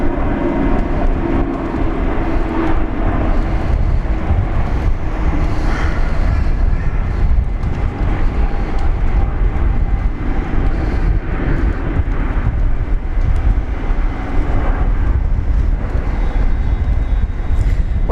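A Singapore Airlines airliner taking off from runway 19 left at Brisbane Airport, a long sustained jet roar with broad rumbling thrust heard steadily from a distance, no voices over it.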